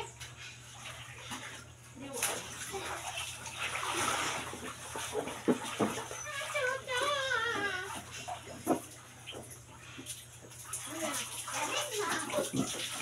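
Hot water from a bathroom tap runs in a steady splashing stream into a bath, under intermittent child and adult chatter, with faint whimpering.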